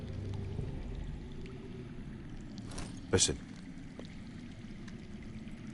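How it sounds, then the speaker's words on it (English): Underground running water in the video game Game of Thorns, a steady low rushing murmur that fills the whole stretch, with one brief spoken word over it. "That's water. I hear water. from underground."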